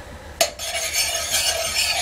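A utensil scrapes and stirs noodles inside a stainless steel pot, with a sharp clank near the start followed by continuous rubbing and swishing.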